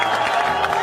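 A cricket crowd roars and cheers after a six struck with a helicopter shot, a steady, dense wash of voices throughout this short burst.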